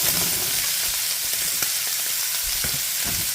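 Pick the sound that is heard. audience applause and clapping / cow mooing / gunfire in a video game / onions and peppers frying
onions and peppers frying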